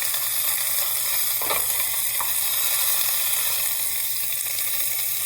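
Pork shank browning in a pan for osso buco, a steady broadband sizzle and frying hiss running throughout, close and even, with a couple of brief louder crackles partway through and no talk.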